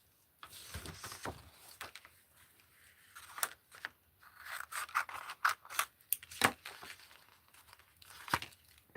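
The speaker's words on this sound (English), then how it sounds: "while I'm die cutting over here" Papercraft die cutting and paper handling make a quiet, irregular series of crisp snips, rustles and crinkles, with short bursts separated by pauses and no talk.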